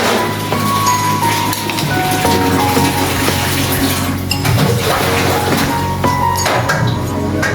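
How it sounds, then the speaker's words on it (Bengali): Lukewarm water goes into a pan of frying meat and potatoes cooked in mustard oil. A loud, continuous rushing hiss fills the clip, up close and with no pauses. "কুসুম গরম পানি দেবো।"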